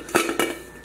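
A stainless steel saucepan from an 11-piece cookware set is handled, giving two quick metallic clinks close by with a short ring after each, then quiet.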